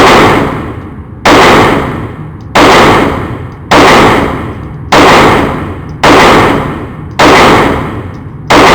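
Loud shots from a Springfield Hellcat pistol fired at a steady pace, seven sharp reports about a second apart, each trailing off into a ringing decay, with no talking.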